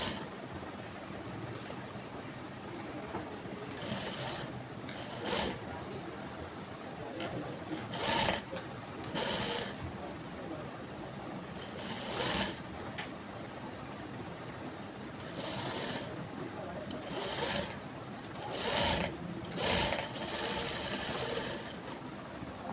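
A sewing machine stitches a frock in short repeated bursts, near and moderately loud, with quiet pauses between runs and faint talk at times.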